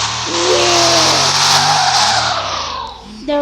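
A video game car lands hard after a ramp jump and skids, tires squealing loudly over a revving engine before the sound eases off.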